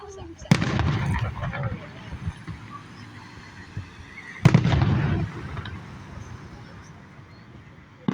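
Fourth of July fireworks burst in two loud, booming explosions a few seconds apart, each followed by a crackling, fading tail, heard from moderately close with a quiet gap between them.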